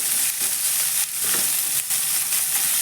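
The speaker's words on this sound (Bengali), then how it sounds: "সামান্য নুন এটা কিন্তু আমরা হাই ফ্লেমে ভেজে নেব এটা নরম হতে দেওয়া যাবে না" Capsicum, onion and chili fry in hot oil over a high flame, giving a loud, steady sizzle with brief stirring scrapes and no talking.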